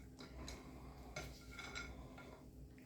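Cookie dough stirred with chopped mini Oreos and white chocolate chips, soft scraping with a few light clinks of a spoon against the bowl, quiet and irregular.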